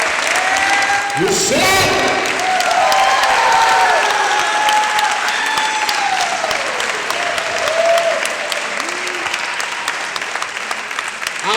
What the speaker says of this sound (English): I'll accept that applause in the name of hip hop.